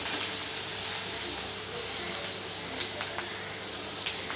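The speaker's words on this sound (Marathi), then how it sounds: "तेलात चांगलं फ्राय होऊ द्या." Onion frying in hot oil for a home-style tondli (ivy gourd) vegetable dish gives a steady, close sizzle with scattered small crackles and pops, and no voices.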